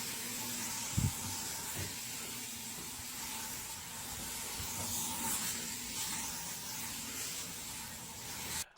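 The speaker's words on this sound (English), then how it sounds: "Let's spray the whole fucking can out here." A steady hiss of an aerosol air freshener spraying runs almost continuously for several seconds, close by, with a brief knock near the start and no talking.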